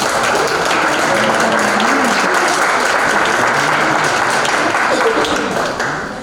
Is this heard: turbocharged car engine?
no